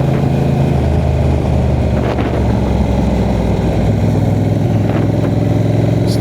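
A motorcycle with a dual-clutch transmission roars loudly and steadily in third gear, with no clear shift in pitch as it runs.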